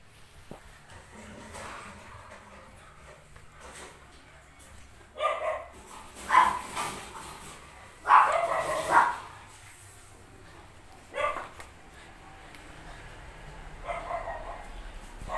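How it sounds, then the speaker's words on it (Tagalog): A pet dog named Ferdy barks in several separate bursts outdoors, loud single and double barks spaced a few seconds apart over quiet background. "Ayan po yung aking aso."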